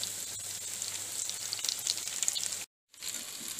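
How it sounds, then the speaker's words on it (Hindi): Potato and chicken kebabs fry in hot oil with a steady, close sizzle and light crackle, broken by a brief silent gap near the end before the sizzling resumes. "देखिए बहुत अच्छे तरीके से हमारे कबाब जो है वो फ्राई हो रहे हैं"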